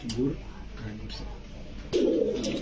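Low, soft coos of a yellow pigeon in short bursts, close by, with a louder coo near the end and faint background noise.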